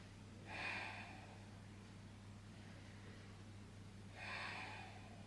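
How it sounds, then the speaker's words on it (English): Two slow, deep breaths during a Pilates child's pose, each a soft airy exhale, quiet and close against a low steady hum. "3 deep breaths."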